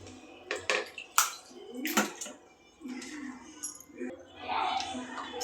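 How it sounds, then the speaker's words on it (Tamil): Large idli steamer pot being rinsed and washed with water, splashing and sloshing with metallic clinks and knocks, close and fairly loud. "நல்லா அலசி ஒரு பெரிய இட்லி சட்டி எடுத்துக்கிட்டேன். கழுவி எடுத்துக்கலாம்."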